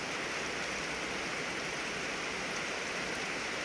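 Steady rain pouring outdoors during a thunderstorm at evening while checking foam fishing lines, a constant loud hiss of falling water with no pauses.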